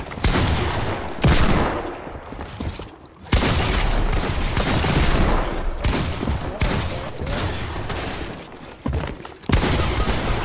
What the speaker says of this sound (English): How did you shoot me through the stair?